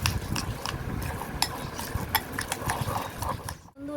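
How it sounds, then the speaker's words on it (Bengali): Spiced lentil filling with sugar, salt and asafoetida being mixed by hand in a bowl, giving soft, close, irregular squishing and light clinking scrapes over a steady low rustle, with no speech. "এবার এটাকে ভালো করে মেখে নেবো ডালটাকে।"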